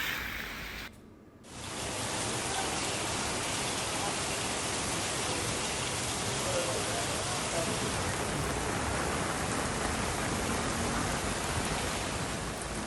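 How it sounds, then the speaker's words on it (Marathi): Heavy rain falls in the Vasai-Virar area during a downpour, a dense, steady hiss of water. It runs unbroken for over ten seconds after a brief dip at the start, with no clear voices over it. "इथं देखील जोरदार पाऊस झाला आहे।"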